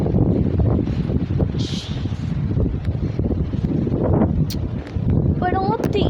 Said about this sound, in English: The winds get strong quick.